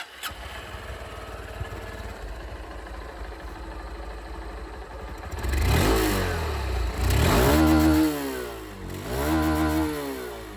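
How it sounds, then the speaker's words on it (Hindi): A 2024 Bajaj Pulsar N150 or Honda SP160 motorcycle idles with a low rumbling exhaust, then revs up loudly three times, each throttle blip rising and falling. "जो एग्जॉस्ट साउंड है दोस्तों वो आप लोग सुन लीजिए।"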